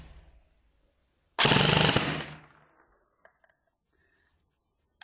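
An airsoft gun fires one short full-auto burst on an 11.1V LiPo battery, a fast, loud buzzing rattle lasting under a second, followed by a fading mechanical whir and a few faint clicks.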